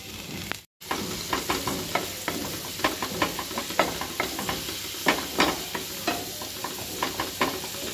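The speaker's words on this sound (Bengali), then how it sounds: "কড়াইতে দিলাম একটা শুকনো লঙ্কা ভেঙে দিয়েছি, আর দিলাম একটু রসুন কুচি।" Chopped garlic and a broken dried red chili frying in hot oil in a wok, giving a steady close sizzle with repeated clicks and scrapes of stirring throughout.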